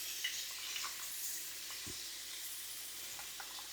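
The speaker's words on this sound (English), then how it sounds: "I'm going to put in a very generous knob of butter." A generous knob of butter sizzles over low heat in a pan with meatballs, producing a faint, steady hiss with a few soft pops.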